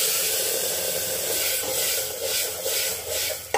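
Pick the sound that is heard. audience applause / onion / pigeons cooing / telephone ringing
onion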